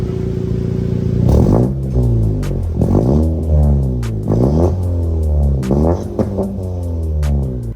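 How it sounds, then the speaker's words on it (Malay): A Honda Civic FK7 with a 1.5L turbo engine and a Max Racing stage 2 catback exhaust revs repeatedly, a loud, deep, close exhaust note that climbs and drops in rhythmic blips. "Korang boleh dengar sendiri dia punya bunyi pure Honda jerik tu kat kereta korang."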